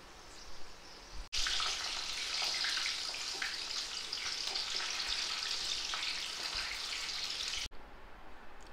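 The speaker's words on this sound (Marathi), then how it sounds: "याच गरम तेलात आपण छान मिरच्या तळून घेऊ" Green chillies frying in hot oil left over from onion bhaji, a loud dense crackling sizzle that starts abruptly and runs steadily before cutting off, heard close with no talk.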